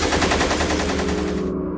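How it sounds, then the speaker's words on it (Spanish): A burst of machine gun fire from attackers, a rapid, dense rattle of shots that runs steadily for about a second and a half, then cuts off abruptly. "se oyó detrás de ella una lluvia de balazos que provenían de los asaltantes"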